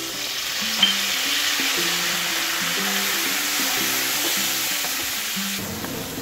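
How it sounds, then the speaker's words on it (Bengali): Vegetables sizzle steadily in hot oil as potato, green banana, sweet potato and bitter gourd fry in a pan, a continuous crackling hiss with occasional stirring scrapes and low background tones underneath. "উচ্ছেগুলো আরেকটু ভাজবো"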